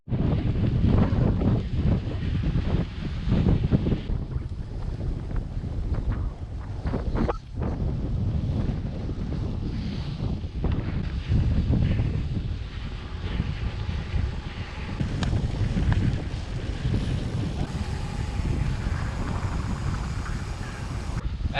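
Strong wind buffets the microphone on a notoriously windy open rural road section with small rolling hills while cycling near Trenton, Florida, a loud continuous low rumble with gusting swells throughout and no talk.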